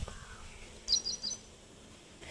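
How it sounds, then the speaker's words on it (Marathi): A wild bird calling outdoors near a forest, a few faint high chirps against a steady background hiss, with no voices. "हे बाई नकली नाही असली पक्षी आहे"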